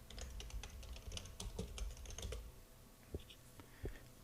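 Typing on a computer keyboard while naming a paint layer in texturing software, a steady run of quick, close clicky keystrokes for about two and a half seconds, then a pause and a couple of isolated, sharper key taps.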